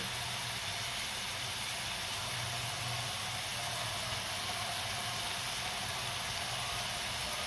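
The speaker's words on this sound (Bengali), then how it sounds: "এটা তো ভাজা হচ্ছে" Beetroot and potato sizzle in a frying pan, a steady, even hiss and crackle of frying that carries on unbroken and close throughout.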